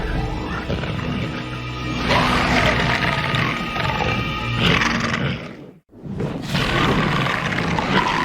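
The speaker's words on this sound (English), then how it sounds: "Sounds like there's a lion." A lion-like roar from a science-fiction TV episode, a loud, sustained growling bellow over dense background sound, breaking off briefly and then resuming.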